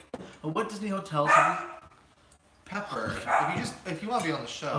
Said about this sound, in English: Oh my gosh, that's our dog.